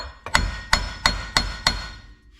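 Five ringing hammer strikes on the rusted front wheel hub of a 2017 Ram 3500 dually land at an even pace, each a bright clang that fades quickly, close up, followed by a short quiet tail.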